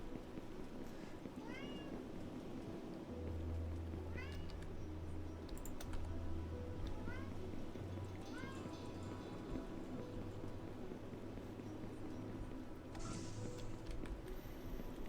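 A cat in the Eden Crafters survival game on a hostile alien planet meows several times, soft and spaced out, over quiet keyboard typing and a low droning game ambience.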